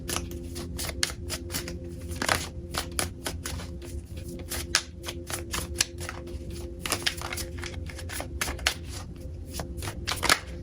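Tarot cards are shuffled close by in a continuous run of crisp riffling snaps and flicks with irregular rhythm over a low steady hum, no voices.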